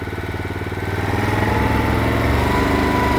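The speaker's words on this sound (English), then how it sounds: "the engine goes quicker." A greenkeeping mower engine runs steadily and rises in speed as the accelerator moves toward the fast setting, its loud, close drone growing over about three seconds.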